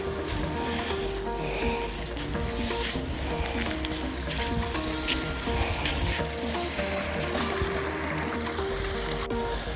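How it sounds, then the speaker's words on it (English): Raging brook in wild winter countryside, water rushing continuously and loudly close by with broad, steady turbulent noise and no talk. "We managed to cross the brook, although it was quite a raging brook."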